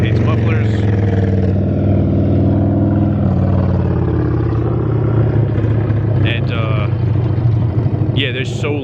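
An unmuffled car engine drones loud and continuous with low rough rumble, rising in a rev, with a voice speaking over it throughout.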